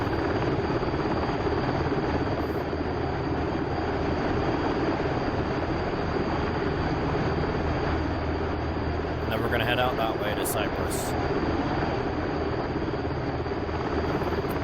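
HH-60 Pave Hawk helicopter in the DCS flight simulator flying a sea rescue sortie, its rotor and engine drone steady and loud throughout while someone talks over it.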